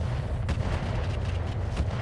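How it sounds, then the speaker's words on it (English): Mech in a VTOL-focused battle game lets loose a full salvo, a dense rolling barrage of booming weapon fire with sharp bursts around the half-second mark and near the end, loud and continuous throughout. "Firing a full salvo."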